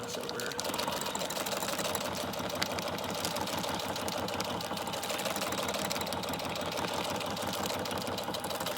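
A sewing machine stitches a handmade traveler's notebook built from a cereal bag and a mailer, running steadily and close with a dense, continuous mechanical whir and rapid needle chatter throughout, with no pauses.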